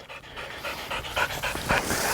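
A bird dog pants hard after flush training, a quick rhythmic run of breathy panting close by that grows a little louder toward the end, with no voices over it.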